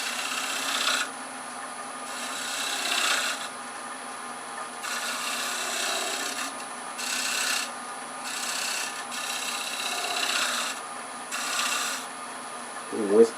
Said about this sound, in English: We're just going to do a little shear scrape.